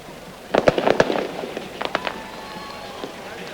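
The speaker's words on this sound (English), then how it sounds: "Fireworks in the crowd," Fireworks and firecrackers popping in the crowd at a Paraguay vs Colombia football World Cup qualifier stadium: a rapid cluster of sharp cracks followed by a few scattered bangs, over a distant crowd murmur.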